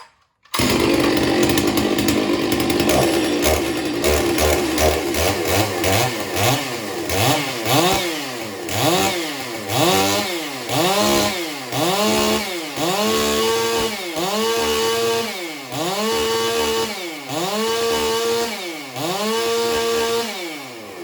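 A Neotec F660 Farm Mac chainsaw runs loud and close while stumping, its engine revving up and down in a steady repeating rhythm of cuts for the whole stretch.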